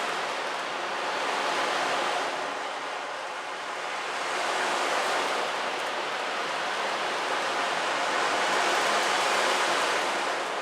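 Ocean drum with rolling balls imitating waves breaking on a shore: a loud, continuous hissing wash that swells and ebbs slowly in long surges, close and alone without voices.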